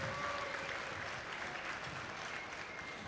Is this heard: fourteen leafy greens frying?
no